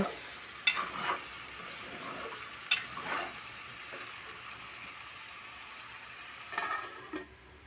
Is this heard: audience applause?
no